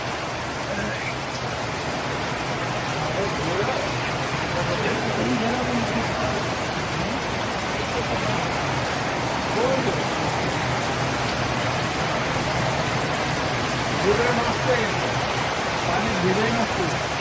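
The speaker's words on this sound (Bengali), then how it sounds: "একদম মুষলধারে বৃষ্টি হচ্ছে" Heavy downpour of rain on an Eid outing, a dense, steady roar of falling water that fills the whole clip at constant loudness, with faint voices in the background.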